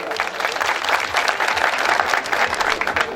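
Crowd applause at a 2014 traditional wrestling event as the opening bid is announced, dense steady clapping sustained throughout with a few voices mixed in.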